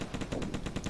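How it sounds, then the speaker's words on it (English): Rapid gunfire in the Dino D-Day video game, a quick string of about eight evenly spaced shots fired into the sky, loud and close within a single second. "Fire two shots in the sky."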